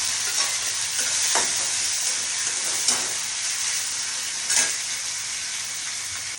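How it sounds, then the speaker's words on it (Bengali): Onions fry in butter and oil in a hot pan while being stirred, a loud, even close-up sizzle with a few scraping stirs rising briefly above it, with no one talking. "পেঁয়াজ ভাজার সময় বেরেস্তাগুলো ভাজছি"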